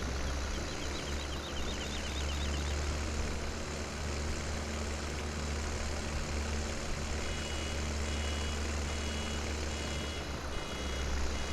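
An old petrol tractor engine in Farming Simulator 17 drones at a steady, even idle, a continuous low rumble with no talking over it.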